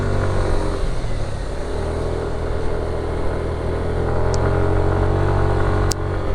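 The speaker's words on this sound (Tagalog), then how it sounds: "Medyo hirap nga lang ang motor guys dito." A motorcycle labors up a steep road toward the Pacific view deck in Dingalan, Aurora, its engine droning steadily under load and rising slightly in pitch, loud and close throughout.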